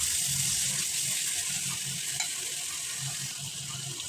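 Spice paste for shrimp and potato curry frying and being stirred in a pan, a steady loud hissing sizzle with low scraping stirs pulsing underneath, close up and continuous, no talk.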